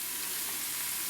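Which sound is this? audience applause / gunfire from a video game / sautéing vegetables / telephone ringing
sautéing vegetables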